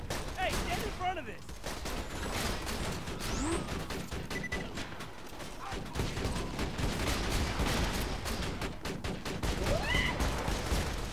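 Turret gunfire in Borderlands 2, rapid bursts of shots rattling continuously over about eleven seconds amid explosions and other game effects, with voices talking at times.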